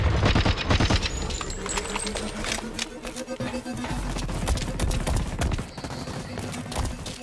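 Rapid gunfire from a gun in the shooter video game Blacklight Retribution: loud clattering bursts of quick shots over steady game noise, pausing briefly and resuming in dense volleys.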